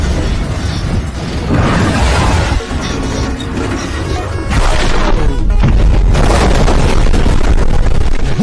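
Video-game missiles strike a target and explode in a dense run of loud, booming crashes and bursts that stack up close together with barely any pause.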